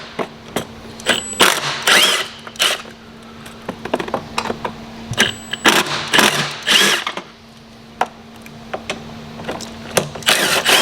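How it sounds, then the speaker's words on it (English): Ratchet with a 10mm socket loosening carburetor hardware on a Chinese QMB139 GY6 49cc scooter, heard as bursts of quick clicking and metallic clatter with pauses between, close up and moderately loud. "10mm to remove the bucket over here"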